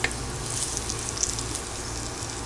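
Ingredients sizzle and fry in a beat-up pan, a steady bright crackle with small pops, close and continuous with no talking.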